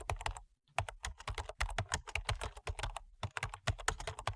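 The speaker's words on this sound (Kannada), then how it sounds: "ಆಮೇಲೆ ಕೆಳಗಡೆ ಕಾಣ್ತಿರ್ತಕ್ಕಂಥ ಕ್ಯಾಪ್ಚಾವನ್ನು ಟೈಪ್ ಮಾಡಿ." Typing a captcha on a keyboard while downloading an Aadhaar card, a rapid, close sequence of crisp key clicks with short pauses between bursts, loud and clear with no talking.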